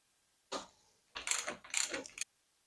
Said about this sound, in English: Now we'll loosen the damper top cap.